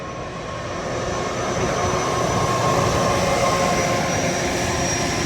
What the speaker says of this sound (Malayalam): ഈ താഴത്തെ ട്രാക്കിൽ കൂടി ഇപ്പോൾ ട്രെയിൻ വരും